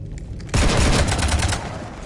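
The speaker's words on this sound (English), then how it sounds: "You want to stop shooting up my ship?" A sudden burst of dense rapid gunfire raking a ship in the video game Mass Effect 3 breaks in loud and close over low background rumble and keeps going without pause.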